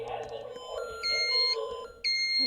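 Beeps from a fire alarm panel during an inspection: steady electronic tones that step up and change pitch, with a few abrupt shifts, over quiet background chatter.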